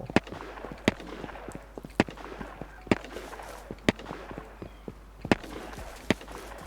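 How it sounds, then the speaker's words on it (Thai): Sharp gunshots from the survival video game Rust crack out at a steady, roughly one-per-second pace, sounding distant over a low background hum, with no talking. "เสียงปืนอีกเลยครับเนี่ย"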